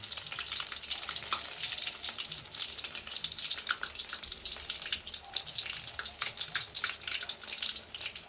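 Bhajiya fritters fry in hot oil, a dense, continuous bubbling sizzle up close that holds steady throughout with no voices.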